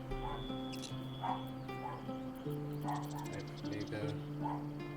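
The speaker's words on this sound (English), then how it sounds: "Dogs are barking." Dogs in Baldur's Gate 3 yip and bark in short repeated bursts amid game music, with someone talking over them.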